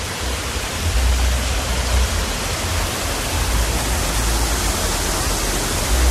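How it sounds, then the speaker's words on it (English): A small waterfall on a mini golf course in Myrtle Beach, South Carolina, rushes as a steady, dense, close-up hiss of falling water that holds at an even loudness throughout, with no voices. "Got a nice little waterfall."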